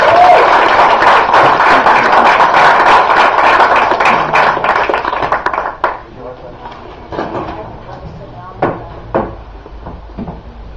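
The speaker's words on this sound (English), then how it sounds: "how about if we bring her up with a real warm round of applause" An audience at the Beat Museum in San Francisco applauds to welcome a reader to the stage. Dense clapping for several seconds thins out into scattered, isolated claps.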